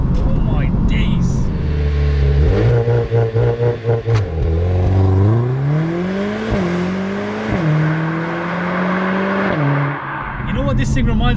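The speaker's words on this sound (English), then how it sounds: "Let's try and do a launch here." A Mercedes-AMG A45 S launches hard under launch control, its engine note climbing loudly through several quick upshifts with brief dips between gears, and a voice briefly exclaiming over it.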